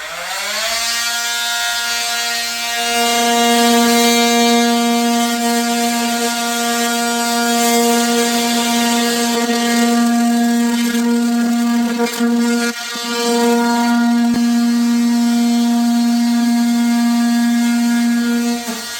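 A power saw cuts out damaged drywall in a bedroom repair, giving a loud, steady high-pitched whine that runs almost without a break, dips briefly near the middle, then resumes and holds to the end.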